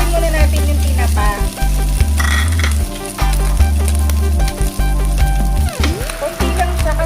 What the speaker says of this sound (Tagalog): Then lulutuin muna natin yung tinapa.